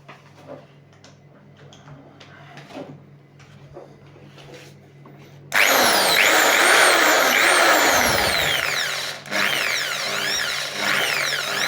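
An electric hammer drill starts up suddenly and runs loud and steady, whining with rising and falling pitch, after some quiet clicks and handling noises.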